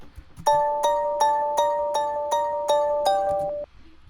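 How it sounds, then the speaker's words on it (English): A clean, dry bell one-shot from an FL Studio kit plays a steady melody of eight evenly spaced, ringing strikes, each decaying briefly before the next, with no effects applied. "For this melody, I used the same bell as before, just from a one-shot kit, and it just sounds like that."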